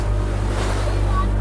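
Sea waves wash steadily around a fishing boat in a harbour at Vizag, a continuous low rumble of surf with wind noise on the microphone and no pauses.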